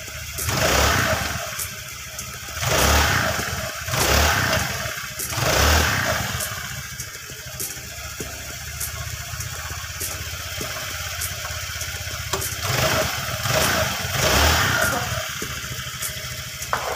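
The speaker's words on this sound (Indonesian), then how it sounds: "motor ini akan saya diamkan dulu ya sampai benar-benar panas mesinnya" An older carbureted scooter-type motorcycle (Vario, Beat or Mio) with a weak battery-charging fault idles close by while warming up, rising in several repeated revs that swell and fall back to a steady idle.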